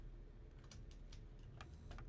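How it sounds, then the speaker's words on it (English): Quiet key presses on a computer keyboard, mostly the space bar, come as scattered light clicks over a faint background hum. "So that's clicking space, by the way, is turning on this light."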